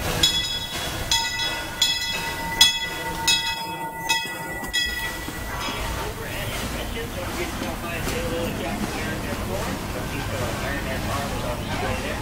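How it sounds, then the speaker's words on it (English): The Disneyland Limited train pulls into the Tomorrowland station, its horn or bell tones sounding in short bursts before giving way to a steady rolling rumble of the cars, with an announcer's voice over it. "The Disneyland Limited, now arriving from a trip around the Walt Disney's Magic Kingdom."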